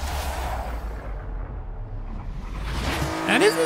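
A light, roughly 350-horsepower naturally aspirated car accelerates down a mile-long run in the racing game Forza, its engine a steady, loud drone that swells slightly toward the end.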